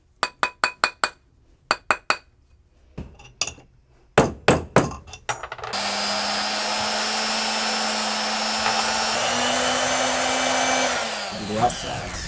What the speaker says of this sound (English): Before it gets loud, this is just a buffing wheel, so it shines everything up.